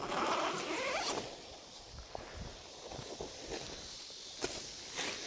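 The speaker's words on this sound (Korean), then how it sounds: "하지만 지퍼를 끝까지" A tent door zipper on a lightweight three-person tunnel tent is drawn all the way open, giving a long rasping pull followed by scattered rustles and soft fabric handling, close and fairly quiet with no talk.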